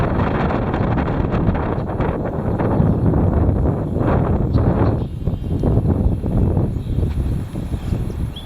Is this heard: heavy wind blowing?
yes